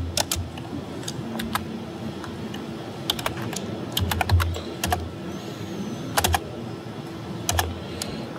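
Fingers type on a computer keyboard in short irregular bursts of crisp keystrokes, heard up close over a low steady hum.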